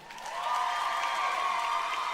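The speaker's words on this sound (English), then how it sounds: "Clap if you think it's Joe." An audience at a stand-up comedy show claps in response to a poll from the stage, starting softly and swelling into a steady, dense wash of applause with faint cheering.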